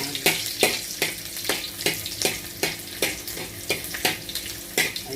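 Garlic sizzles in hot oil in a pan while cooking a fresh halaan clam dish, a loud, steady frying crackle broken by regular scraping stirs, with no talking.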